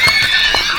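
A racehorse whinnies loudly and close at a horse race in Tayabas, a brief high neigh with faint background noise.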